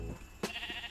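A sheep in the video game Minecraft gives a single short bleat, close and clear, over a soft steady game background.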